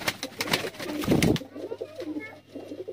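A female pigeon gives a single low, throaty coo, short and fairly close, set against faint background noise and murmuring.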